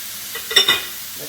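Cauliflower fried rice with peas is stirred in a small, overfull wok: a brief scraping toss over a soft background sizzle, lasting only a moment.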